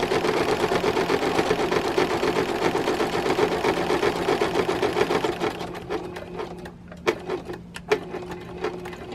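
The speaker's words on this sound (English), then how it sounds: "And right now I'm just sewing with my regular sewing threads." Rapid, steady whirring of a sewing machine running regular thread at about a 2.3 stitch length while applying scrappy quilt binding, then slowing into a few separate stitch bursts and thumps near the end.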